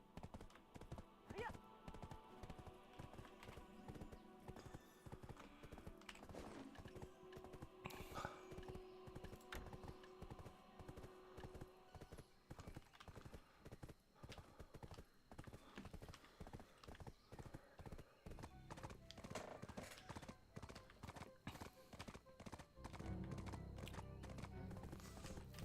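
Horse hooves gallop in the Black Desert video game, a steady rapid clip-clop rhythm that runs throughout, with a brief whinny near the start and faint keyboard clicks and game sounds underneath.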